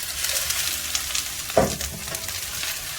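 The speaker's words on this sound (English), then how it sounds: "I'll be adding my meatless ground gradually to" Meatless ground hitting hot oil for a jerk taco, a continuous close sizzle with a louder burst as more is added partway through, no voices.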